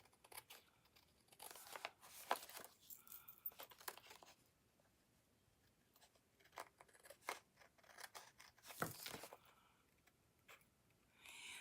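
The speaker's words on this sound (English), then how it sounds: "we'll take some paper snips and cut that off" Paper snips cut through cardstock trimmed to 2 1/8 by 6 inches for a fun-fold card, giving a run of close, crisp crunching snips and paper rustles at a quiet level.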